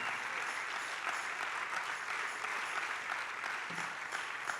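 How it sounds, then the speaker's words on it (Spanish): Congregation applauding during a church service, dense continuous clapping from many hands at an even level throughout, somewhat distant in the room. "denle aplausos al Señor"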